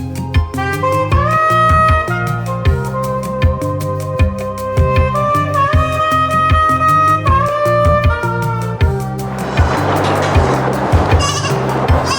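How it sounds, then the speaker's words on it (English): Goats bleat repeatedly on a goat farm, loud and close, several overlapping wavering calls in a steady run, with a burst of rustling noise toward the end. "See how these goats are really very struggling to come."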